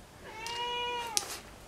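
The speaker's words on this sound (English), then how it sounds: "That cat's making a row, isn't she?" A cat meows once in a long, drawn-out call, clear and fairly close, set against a quiet room in a woodworking workshop.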